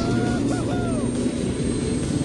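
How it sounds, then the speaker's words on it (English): An airplane roars steadily overhead in the Saints Row video game, a continuous loud engine drone with faint squealing sweeps mixed in. "And there's a plane here."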